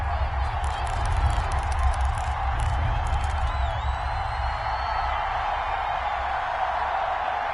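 Simulated stadium crowd noise from a PS4 Giants football video game, a steady broad roar of cheering throughout with brief whoops and clapping mixed in, sustained at an even level.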